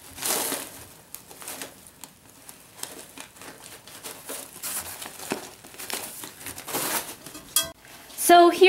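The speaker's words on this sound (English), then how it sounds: "If you hear some rustling around in the background, that's because the bunnies are attacking the toy" Rabbits tear at a paper bag toy stuffed with hay: crinkly paper rustling and crumpling in bursts, with scraping and tearing bits, close by and fairly continuous, a brief sharper clatter near the end.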